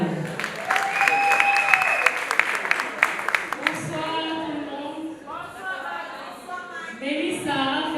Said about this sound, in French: Est-ce qu'on peut applaudir Maï?